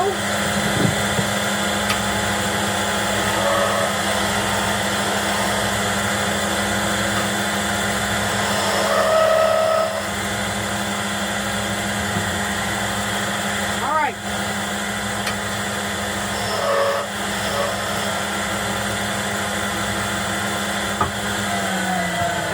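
A wood lathe turns a workpiece under a skew chisel, giving a steady motor drone with a whining tone and faint scraping cuts that come and go.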